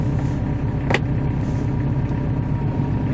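Kubota 5740 tractor running at a steady close idle as its PTO shaft is engaged, a brief sharp click cutting in over the continuous low mechanical drone.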